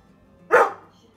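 A husky gives one short, close vocal burst lasting under half a second in otherwise quiet surroundings.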